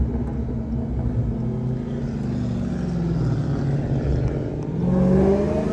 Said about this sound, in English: So y'all just gonna hear like the factory burbles.